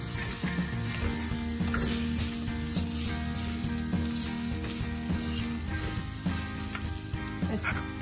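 Smelt fish sizzle and hiss in a pan of coconut mixture over low heat, a steady close crackling fry with soft scraping and stirring clatter throughout.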